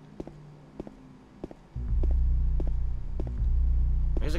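Radio static from Silent Hill 2 surges in suddenly and stays loud and steady, a dense crackling hiss over a low hum, after a stretch of quieter ambience with sparse thumps.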